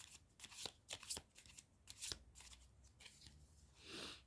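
Oracle cards from an art advice oracle deck are shuffled by hand: a quiet, close series of crisp riffling flicks and slides in an irregular rhythm, with no talking.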